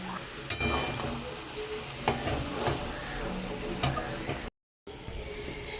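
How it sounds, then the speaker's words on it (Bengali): Vegetables and loitta fish curry are stirred in a sizzling pan, a steady frying hiss broken by spoon scrapes and light clinks, close up, with a brief dropout near the end. "আর আমি এবার সবগুলোকে একসাথে মিশিয়ে নেব।"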